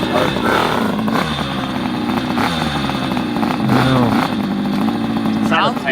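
A motorcycle engine revs loudly and continuously through playback, its pitch rising and falling in repeated throttle bursts, with voices talking over it.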